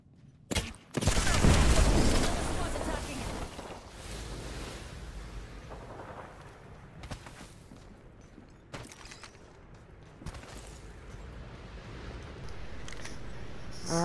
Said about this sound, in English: like, bombs dropping